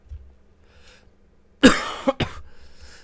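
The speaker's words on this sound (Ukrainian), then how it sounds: "Та що ж тут таке з тим кашлем?" A person coughs sharply and close, one harsh burst followed quickly by a second shorter cough, after a stretch of near silence.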